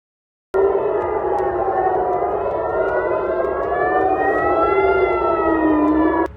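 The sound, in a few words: air raid warning sirens in Israel during missile attack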